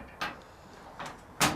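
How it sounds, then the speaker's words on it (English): Locking storage drawer in a modular truck shelving system, giving three short sliding thuds and clacks, the last loudest and closest, with quiet pauses between them. "So this is an open drawer for locking storage in there."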